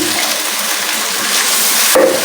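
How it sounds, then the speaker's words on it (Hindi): Water is poured into chicken masala frying in ghee in a pan, giving a loud steady sizzling hiss that ends in a sharp splash. "अब मैं थोड़ा सा इसमें पानी ऐड करूँगी"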